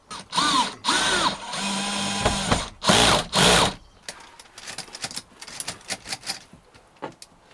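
Power screwdriver driving screws through a panel into the roof lining of a budget camper van conversion, several loud close whirring bursts in quick succession, then quieter clicks and handling knocks.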